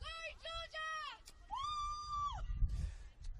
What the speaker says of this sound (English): a scream of "Go Georgia" from the side suggests to me that it's Georgia Plessas who has come on